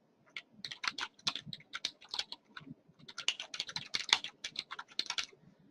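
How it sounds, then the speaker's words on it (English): Fingers tap out fast, uneven bursts of keystrokes on a computer keyboard, close and fairly soft, with a brief pause partway through and no talking. "I don't want to spend too much time just typing in information"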